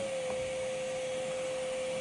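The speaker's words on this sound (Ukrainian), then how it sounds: "І тепер окремо ми можемо увімкнути пилосос." A Saeshin MediPro Touch podiatry device runs its vacuum suction, giving a steady, even whine with a strong sustained tone throughout. The sound is close and constant, with no talk over it.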